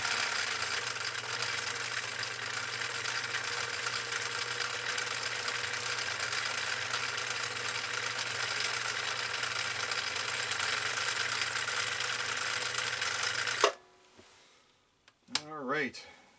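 A Husqvarna Viking CL21A sewing machine runs a steady, loud, continuous stitch through leather for about thirteen seconds, then stops abruptly, leaving near silence broken by a couple of brief faint clicks.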